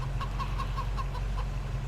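Chickens in Farming Simulator 22 cluck in a steady run of short, evenly spaced calls over a low constant hum, moderately close and without talk.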